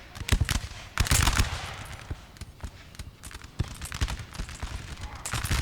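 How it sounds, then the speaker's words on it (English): Musket infantry lines firing volleys in Napoleon: Total War, sharp cracks and ragged bursts of gunfire repeating irregularly across the battlefield, some loud and close, others scattered and distant. "Got my units over here firing upon his Guardia Valona."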